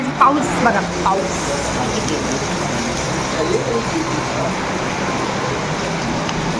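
Rain falls outside a roadside dhaba as a soft steady hiss, with faint road traffic in the background and people talking nearby over it.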